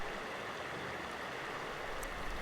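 Crystal clear Jumping Pound Creek flows and splashes around boulders lined with splash ice on a cold day, a close, steady rushing of water with no talking.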